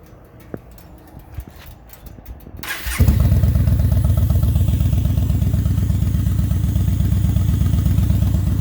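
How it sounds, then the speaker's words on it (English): Yamaha V-Star 1300 motorcycle fitted with Cobra Dragster exhausts and Cobra Quiet Baffles: after quiet handling noises, the warmed-up engine fires at about three seconds into a loud, steady, close idle with a deep rumbling pulse. "I got the Cobra Quiet Baffles today for my V-Star 1300 with Dragster exhausts"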